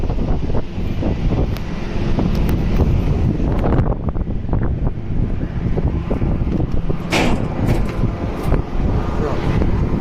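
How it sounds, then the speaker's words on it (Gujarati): Strong seashore wind at the Alang ship-breaking yard buffets the microphone in loud, continuous roaring gusts, with brief rattling bursts and a voice faintly under the noise. "એટલો પવન છે ઇધર"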